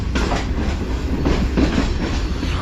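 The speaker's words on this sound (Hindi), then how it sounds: "हमारी ट्रेन अप्रोच बना रही है कोटरी जंक्शन रेलवे स्टेशन पर" Shalimar Express passenger train approaching Kotri Junction railway station, heard from on board as a steady loud rumble with repeated clickety-clack of wheels over rail joints.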